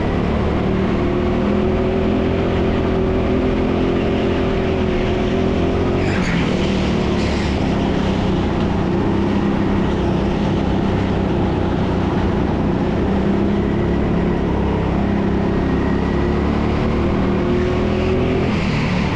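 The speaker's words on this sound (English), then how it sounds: "This kart feels quick" Racing go-karts buzz around an indoor sprint track, a constant, loud droning engine whine with a sharp surge around one pass as another kart closes in.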